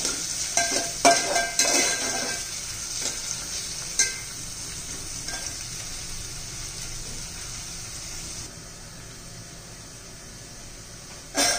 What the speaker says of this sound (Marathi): चांगलं असं परतून घेऊया आपण कांदा पण